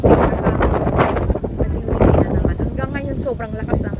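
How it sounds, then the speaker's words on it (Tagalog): Strong wind rumbles and buffets the microphone nonstop, loud and close, while a person talks over it, at Bahrain Bay. "Hindi ako makapag-picture kasi sobrang lakas ng hangin."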